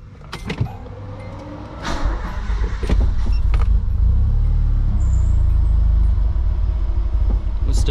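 A car with a CA18DET engine on its first cold start of the day: a few quick starter clicks and cranking, then the engine catches and settles into a loud, steady rumbling idle, close by.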